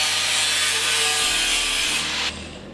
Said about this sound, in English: I'm now going to trim this excess just so I can get in here to make that cut